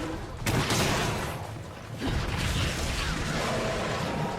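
Explosive bursts from crag shots slam into a large monster in Monster Hunter 3 Ultimate, a dense barrage of loud pops and crashes with a brief lull before another blast rolls in.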